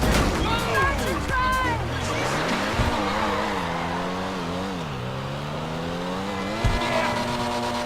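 A Comet SR sports car in GTA 5 Online roars as the engine revs up and down through gear changes, its tone climbing and dipping steadily, with a brief tire chirp near the end.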